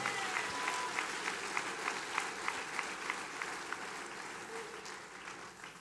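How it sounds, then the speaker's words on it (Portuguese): A church congregation claps in the name of the Lord, a faint, even wash of many hands heard from a distance, with a steady rhythmic pulse running through it. "aplauda bem forte o nome do Senhor"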